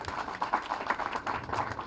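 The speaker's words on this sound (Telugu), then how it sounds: "ఒకసారి గట్టిగా చప్పట్లు కొట్టండి అబ్బా" Audience applause at a Telugu film audio launch event for Nenu Na Lalli, a steady, dense wash of many hands clapping throughout with crowd noise, no clear speech over it.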